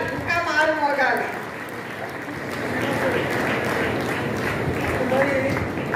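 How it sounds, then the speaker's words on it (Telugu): Loud, sustained audience applause at a farmers' fair, a dense wash of clapping that swells and holds steady for several seconds, with voices and cheering mixed into the crowd noise. "ఒకసారి గట్టిగా చప్పట్లు"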